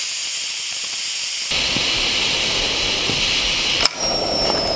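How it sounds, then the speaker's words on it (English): An Instant Pot vents its pressure in a loud, steady steam hiss that jumps in strength partway through, with a short click near the end before the hiss carries on. "And you just hold it down and it releases the pressure."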